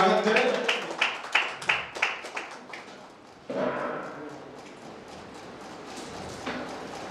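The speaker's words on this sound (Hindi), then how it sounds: "आप लोग ताली बजा करके इनका जोरदार स्वागत करें" An audience at a live community anniversary function claps to welcome a guest, with a run of loud, sharp claps that fade out, then a second, softer burst of scattered clapping, and a voice speaks over it.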